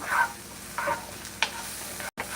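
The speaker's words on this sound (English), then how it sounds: "Start stirring." Onions and tomato frying in a pan while being stirred, with a steady close sizzle broken by a few scraping stir strokes and a brief pause near the end.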